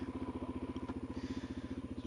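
A Suzuki DRZ400 SM motorcycle idles just after a cold start, its single-cylinder engine thumping in a steady, even pulse, close and fairly quiet.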